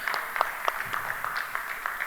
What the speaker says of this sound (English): Let's give them a bigger round of applause, ladies and gentlemen.